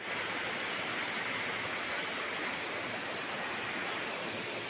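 A strong floodwater current rushes through Kidapawan City in Mindanao as a dense, loud, unbroken roar, steady from start to finish, with no voices.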